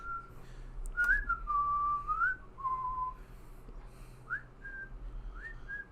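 A person whistles a short, wavering tune alone in a quiet room, the notes gliding up and down in brief phrases over a low background hum.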